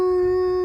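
A person imitates a wolf howl with a single sustained, steady vocal tone, loud and close, held for under a second.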